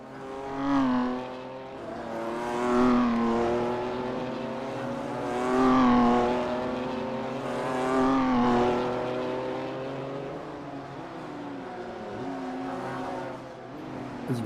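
BMW M2 CS race cars circle the Long Beach street circuit, engines rising and falling in repeated revving pulls and upshifts, heard from onboard at moderate volume with no talk.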